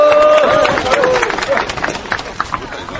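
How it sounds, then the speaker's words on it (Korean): An audience at a youth committee rally and hunger-strike sit-in bursts into clapping and shouting, with voices loud at first, then dense scattered applause that gradually thins out. "큰 박수 부탁드리겠습니다."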